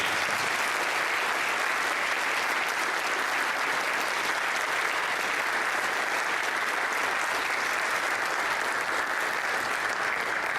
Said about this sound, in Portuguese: aplauda o Senhor pela vida.